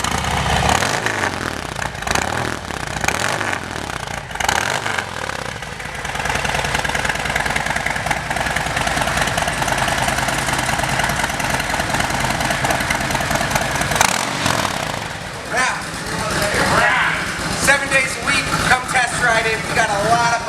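A 2019 Harley-Davidson Heritage Softail Classic 114 fitted with S&S intake and exhaust idles loudly nearby with a lumpy, uneven throb and several sharp revs, while voices talk over it at a motorcycle dealership.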